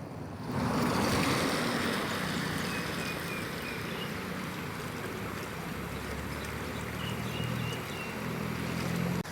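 Floodwater released from an overfull reservoir at Prasat, Surin, rushes across a road as a loud, continuous roar, steady and close, with no voices.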